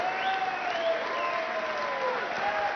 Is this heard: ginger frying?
no